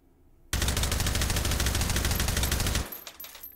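Suppressed AR-18 rifle fired full-auto in H3VR, a dense continuous burst of muffled rapid shots lasting over two seconds, loud and close, then cutting off into a brief mechanical tail.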